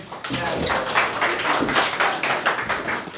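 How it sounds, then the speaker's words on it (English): A classroom audience claps for the participants of an English conversation role-play activity, a short round of rhythmic hand claps close by. "Please clap for them."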